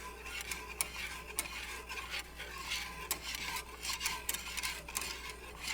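A whisk stirs a floury homemade vanilla creamer mixture in a pot, giving a steady, close scraping and swishing with brief clicks as the wires hit the sides, with no voices over it.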